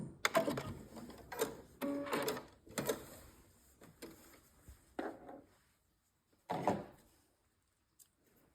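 A home sewing machine back tacks a seam on a single-piece fabric bread bag, run slowly in reverse by pedal: several short bursts of stitching separated by pauses, close and moderately loud, with no talking.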